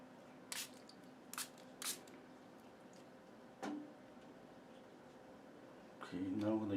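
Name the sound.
spraying a little water from a spray bottle onto paint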